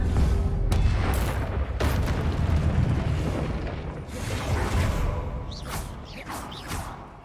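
Blasting spell explosions from Hogwarts Legacy, deep booming bursts with whooshing swells, loud and near, rolling one into another through a continuous roar of battle and spellcasting.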